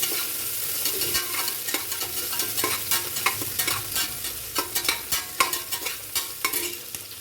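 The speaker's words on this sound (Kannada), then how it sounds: "ಈರುಳ್ಳಿ, ಫ್ರೈ ಮಾಡ್ತೀನಿ" Onions frying in a pan give off a steady, soft sizzle, broken by repeated scraping strokes of a stirring spoon. It is close and moderately quiet, with no talking.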